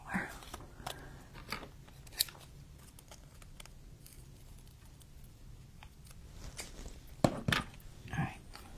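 Scissors snip through paper in a series of sharp, irregular cuts near the listener, with quieter rustling and handling between the snips.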